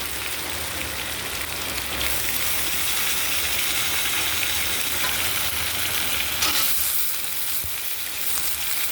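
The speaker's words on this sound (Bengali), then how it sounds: "বেগুনগুলো আবার ভাজা ভাজা হয়ে গেলে তারপরে সরষে লঙ্কা বাটাটা দেবো।" Eggplant pieces frying in oil with black cumin and chili, producing a loud, dense, continuous sizzle that briefly eases near the end, with no talking.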